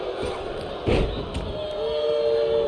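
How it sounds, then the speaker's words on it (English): A WWE 2K19 arena crowd roars and cheers steadily during a women's match, a dense continuous wall of crowd noise that surges briefly with a thudding swell about a third of the way in. "soaking in the crowd here"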